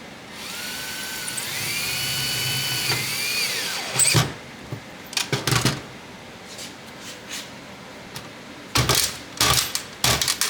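A cordless power drill driving screws into a Geo Tracker, with a rising whir as the motor spins up, then several short bursts of driving and clicking, close and loud, with no talk.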